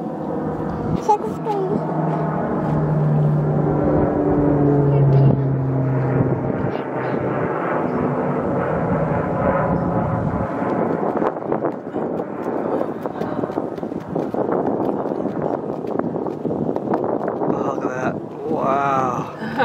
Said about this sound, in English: Comes another plane coming to do a drop.